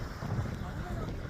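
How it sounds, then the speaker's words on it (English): Strong wind gusts against the microphone at a Florida beach, a steady low roar filling the whole moment without clear speech. "I so wish that it wasn't windy, guys."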